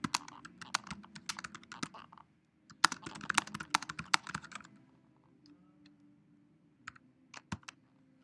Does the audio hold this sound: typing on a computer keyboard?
yes